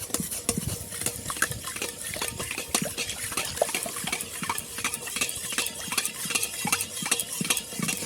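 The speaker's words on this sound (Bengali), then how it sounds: "এবার নাড়তে হবে আর দিতে হবে" Orange juice jelly mixture is stirred in a pan, producing rapid, continuous scraping and sloshing strokes of a spoon against metal, close and regular throughout.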